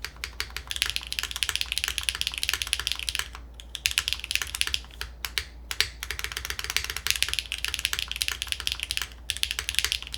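Rapid clacky keystrokes on a Stratum-80 mechanical keyboard, close and continuous with a few short pauses, no talking.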